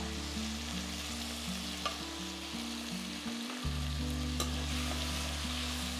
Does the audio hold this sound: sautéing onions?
yes